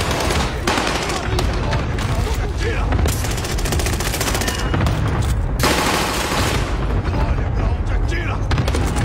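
Rapid bursts of automatic gunfire and shots rattle almost continuously through a Call of Duty Warzone match, loud and dense with brief gaps, while a voice talks over the action.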